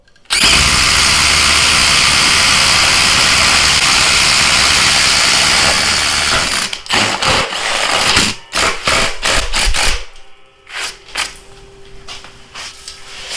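Milwaukee Fuel Gen 3 impact driver, an upgraded warranty unit, driving a fastener into wood: a loud continuous high-pitched whine for about six seconds, then several sharp bursts of impacting and short stops, tapering into quieter handling noise.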